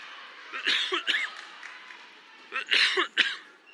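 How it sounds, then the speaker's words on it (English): A sports commentator at a girls' high school basketball game coughs twice, two short clusters of close, moderately loud coughs separated by a pause, over faint gym background. "Excuse me, coughs, everyone."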